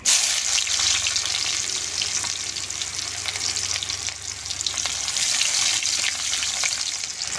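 Whole dried chillies and chopped onion hitting hot oil for a tempering, a loud, dense, continuous sizzle and crackle, close up and without talk, holding steady for several seconds.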